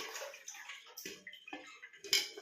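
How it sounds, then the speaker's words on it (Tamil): Cluster beans rinsed by hand in a bowl of water, with close, quiet splashes, swishes and drips in an uneven rhythm. "நல்லா ஒரு அலசிக்கிடணும்"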